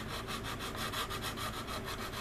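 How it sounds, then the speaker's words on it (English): Close, steady back-and-forth rasp of sanding along the leading edges of a resin model aircraft kit, a C-124 Globemaster, in regular quick strokes with no talk. "by sanding these leading edges here"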